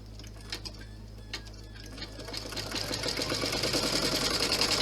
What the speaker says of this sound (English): it's going to do a foundation stitch of a zigzag, and then it will do the satin stitch